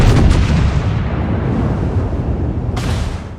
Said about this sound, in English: I fire again, 1 penetrating hit